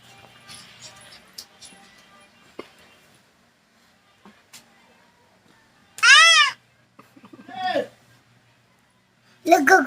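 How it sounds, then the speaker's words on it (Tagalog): A new kitten meows several times in a row, loud and close, with arching cries near the end of a quiet indoor scene; a voice and soft handling noises come before the meows. "Pusa."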